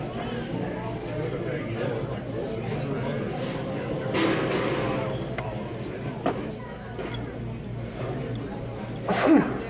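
A single sneeze from a person during a casual podcast-style conversation, one short burst rising out of ongoing voices and background chatter near the end.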